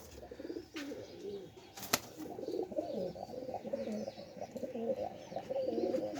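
A female pigeon with a white tail, bound wings and alta marks on her feathers coos in repeated low, throaty phrases up close, with a brief sharp knock partway through and no talking.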